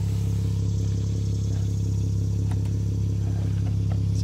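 A 2018 Jeep Wrangler Unlimited JK Sport with a 6-speed manual idles through its original muffler, a steady low, close exhaust rumble that holds evenly throughout, with no speech.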